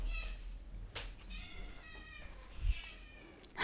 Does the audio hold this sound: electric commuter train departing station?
no